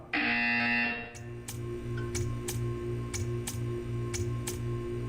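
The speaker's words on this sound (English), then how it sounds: "When you hear the buzzer, stare at the art." A harsh electronic buzzer sounds in the Portal 2 video game, opening with one long blast and then sounding as a run of short, evenly spaced pulses against a low background hum.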